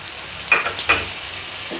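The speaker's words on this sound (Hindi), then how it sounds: "और साथ ही इसमें डाल देते हैं टमाटर और हरी मिर्चें" Tomatoes and green chillies hit a pan of frying chicken and potato curry, giving two quick close bursts of sizzle and stirring before a steady low frying hiss.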